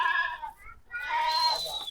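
Goats bleat at a goat seller's farm, two wavering calls close together, one short and one longer, with faint background noise and some overlapping voice.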